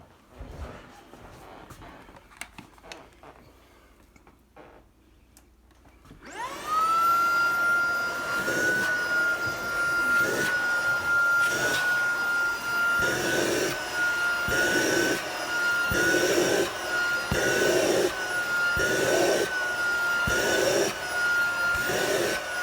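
Tineco cordless vacuum cleaner switches on after a quiet start and runs loud and steady with a high whine, its pitch and suction rising and falling rhythmically as the bare nozzle is worked over upholstery without the brush.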